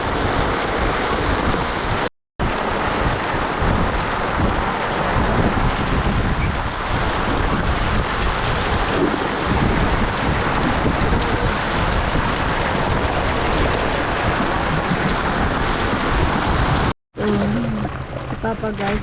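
A typhoon storm at sea roars with constant heavy wind buffeting the microphone and crashing waves, loud and unbroken from a boat, with people talking over it.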